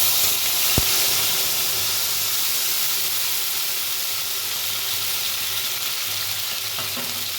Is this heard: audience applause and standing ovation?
no